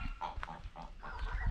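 Farm geese make a series of short, nasal honking calls at close range, several in quick succession over about a second and a half.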